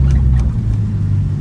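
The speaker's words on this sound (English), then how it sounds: "The exhaust, obviously, with the cat delete, it's a lot louder." A Nissan R34 NISMO with a catalytic-converter-delete exhaust drives along with a loud, deep, steady exhaust rumble and low drone, heard close and alone.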